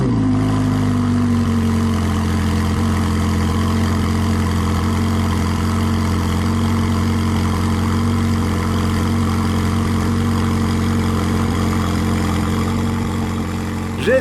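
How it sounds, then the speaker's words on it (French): A powerful Ferrari engine idles steadily for a long stretch, a deep continuous rumble close by after a brief initial rev. "quand le moteur s'ébroue, ça fait son effet."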